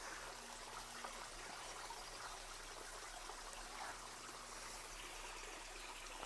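A small solar-powered floating fountain pump on a tiny garden pond keeps up a steady, faint trickle and splash of moving water, with no voices.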